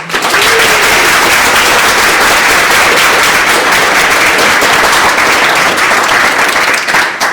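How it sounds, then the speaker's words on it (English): Theater audience gives the cast and crew a loud, sustained round of applause before a performance of The Potting Shed, dense clapping filling the room steadily throughout. "so if we could actually give them a quick round of applause."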